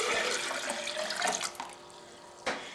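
About 100 milliliters of water is poured from a jar into a blender cup, a close splashing gush that tapers off, then one brief final splash, with no talking.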